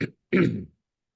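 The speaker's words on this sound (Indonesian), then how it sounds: "Batuknya agak lama ini, Masya Allah." A man's throat clearing and coughing in two short bursts, a brief one then a louder, longer rasping cough, close and alone in a quiet room.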